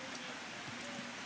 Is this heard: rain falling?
yes